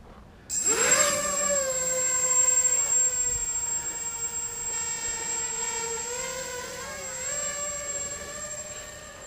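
RoboCat 270 radio-controlled plane on a calm, windless day: a sharp electric motor whine spins up abruptly, then holds a high buzzing pitch that bends up and down as it flies past overhead, with no talking.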